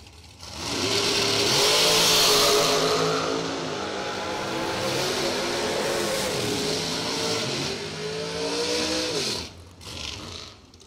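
Drag racing cars at a bracket race idle and then launch. A close, sustained engine note rises and shifts in pitch for several seconds, cuts off sharply, and a short final burst of engine noise follows.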